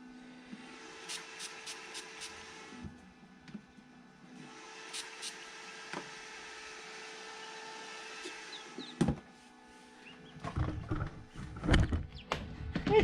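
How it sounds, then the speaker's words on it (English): A hairdryer blows over newly hatched quail chicks under a heat lamp, a faint steady whirring hiss that runs in two long stretches, followed by quieter scattered clatter and soft movement. "I can run the hairdryer on them too."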